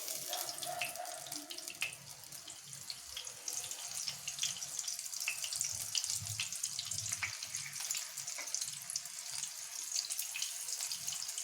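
Vegetable cabbage rolls shallow frying in medium-hot oil in a pan, giving a steady, continuous sizzle and crackle that runs at an even, moderate level throughout with no talking.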